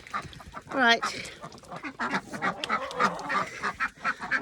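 A goose and ducks eat carrots, giving a loud goose honk near the start, then repeated nasal quacks and honks mixed with pecking and rustling, with a person speaking briefly among them.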